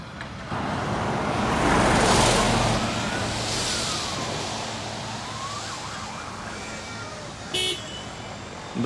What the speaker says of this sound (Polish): Widzimy zbliżające się pojazdy na sygnale w tym momencie.